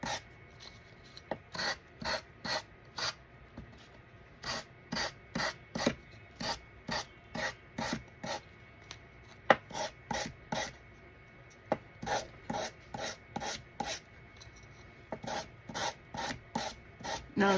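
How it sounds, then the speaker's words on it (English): A well-worn piece of sandpaper is rubbed in quick rhythmic strokes over a Christmas coaster, making a dry rasp close by. The strokes come in short bursts with brief pauses between groups, and nobody speaks. "And this is a well-worn piece of sandpaper."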